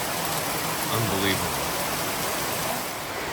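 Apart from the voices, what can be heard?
heavy tropical rain pouring down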